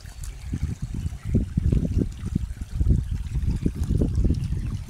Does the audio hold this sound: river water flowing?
yes